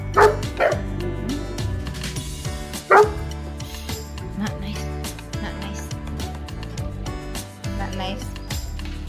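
Dogs bark and yip repeatedly in sharp bursts, fairly close, over a constant low hum, with a few louder barks standing out.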